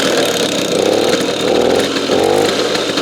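An old East German DDR moped engine running steadily up close, a loud buzzy two-stroke drone with a rattling clatter from a noisy gear chain selector, no voices.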